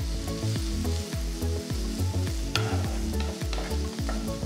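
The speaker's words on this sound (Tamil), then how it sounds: "வெங்காயம் வந்து ஒரு 3-4 மினிட்ஸ் நல்லா வதக்கணும்" Oil sizzles steadily as onions fry in a pan for paneer dosa, partly masked by loud rhythmic background music.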